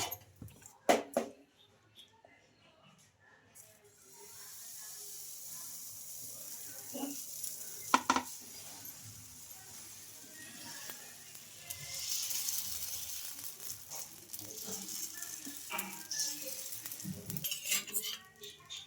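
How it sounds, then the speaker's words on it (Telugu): Curd dosa cooking in oil on a pan and being flipped, with soft sizzling, faint scraping and a few sharp utensil clicks at low level, no talking. "ఇంకా కొంచెం ఆయిల్ అయితే వేసేసుకొని ఇంకా దోశనైతే తిప్పేస్తున్నానండి"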